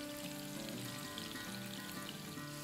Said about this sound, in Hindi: तीन मिनट ईच साइड के हिसाब से फ्राई कर लेंगे